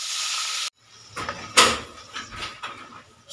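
Mustard and green chili paste dropped into hot oil, a sharp hiss after a brief pause, then uneven crackling sizzle that swells and fades in spurts.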